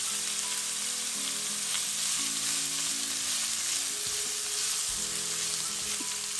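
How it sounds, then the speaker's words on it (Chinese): Celery and dried tofu stir-fried in a wok with a big spoonful of oyster sauce, giving a dense, continuous loud sizzle with faint tossing and clinking underneath throughout. "加一大勺蚝油翻炒"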